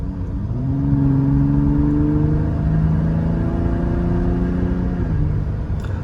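A 2021 Ford Raptor truck accelerates in steady surges, its engine note climbing in pitch through the gears with a constant road rumble beneath, heard from inside the cabin with no talking.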